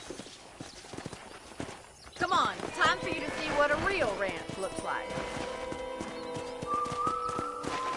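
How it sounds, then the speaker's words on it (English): In Red Dead Redemption, a horse's hooves clip-clop in a steady rhythm while riding, with a whinny and someone talking over the hoofbeats. "let's see if you can still ride a horse"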